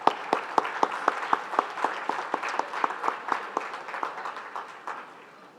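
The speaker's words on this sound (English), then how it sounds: "One more time, round of applause for the caregivers." Applause for caregivers at a Making Strides of Long Island kickoff event. Crisp, close, rhythmic claps ring out clearly at first, then thin out and fade toward the end.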